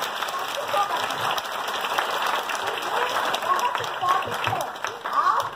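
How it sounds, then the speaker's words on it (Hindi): A seminar audience at a Vestige business talk in Bhopal claps together in a steady, fairly distant burst that carries on throughout, with voices faintly audible beneath it. "तो मैं चाहूंगी अपने सफलता की खुशी में एक जोरदार ताली हो जाए।"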